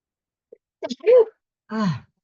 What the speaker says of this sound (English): Been sneezing a lot.